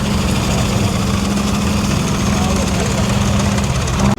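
An old D80 bulldozer's diesel engine idles close by, a steady, heavy low rumble with rattling vibration that holds without a break until a brief dip at the end.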